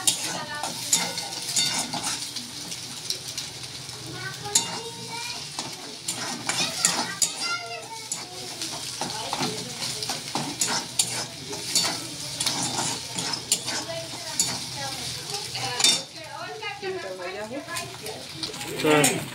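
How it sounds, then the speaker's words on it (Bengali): Egg frying and being stirred into scrambled bits in a pan, with a steady sizzle and repeated scraping of a utensil against the pan, while speech and other voices continue over it. "ডিমটাকে ঝুরো ঝুরো করে ভেজে নিচ্ছে।"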